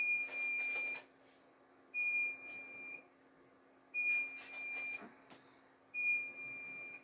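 An egg incubator with its lid off, waiting on chicks to hatch, beeps in steady repeating pulses, each about a second long with a second of quiet between, set against a low constant hum.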